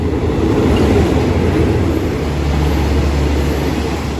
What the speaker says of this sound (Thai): และรถไฟก็มาแล้ว